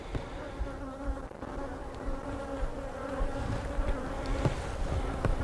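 A steady, dense hum of many honey bees buzzing continuously at close range around a hive, with a few individual insects droning past louder now and then.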